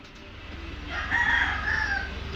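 A single rooster crows nearby, one drawn-out call rising in the middle of the clip over a low background hum.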